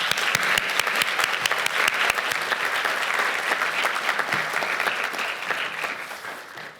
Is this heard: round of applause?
yes